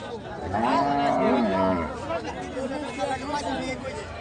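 A Friesian cow lets out a long, loud moo at a busy cattle market, close to the microphone, followed by crowd chatter and someone speaking over the background hubbub.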